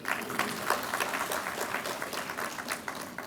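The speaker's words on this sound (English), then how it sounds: "with your big round of applause again" Faint, distant applause from an audience welcoming the Vice Chancellor at a university Teachers Day celebration, a soft continuous patter of many hands with slight swells.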